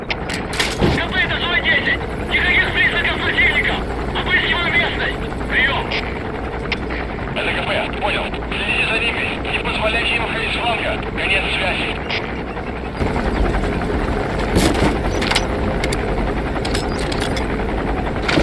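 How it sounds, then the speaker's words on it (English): Enemy helicopter in Metal Gear Solid V: The Phantom Pain, a steady loud rotor drone that runs through the whole stretch with scattered gunfire-like bursts, while a player talks over it. "No fucking way they got a helicopter."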